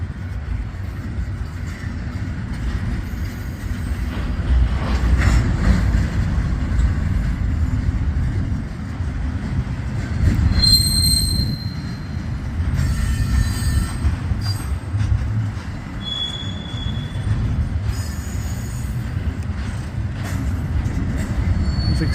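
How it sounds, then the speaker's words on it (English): A freight train led by two locomotives rolls past at close range, a steady loud roar of wheels and cars with intermittent high metallic squeals throughout. "As you can see, two locomotives in the lead."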